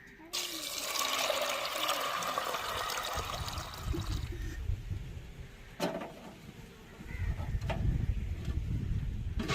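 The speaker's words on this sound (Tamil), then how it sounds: "தேவையான தண்ணி ஊற்றிக்கிறோங்க" Water poured into a pot of soaked green peas for green peas rice, a loud broadband rush over the first four seconds, then a lower, softer trickle with occasional clinks toward the end.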